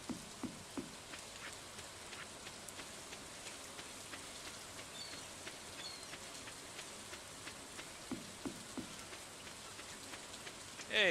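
Rain in the video game Stardew Valley, a soft steady patter with scattered sharper drops ticking at irregular intervals, faint and continuous throughout.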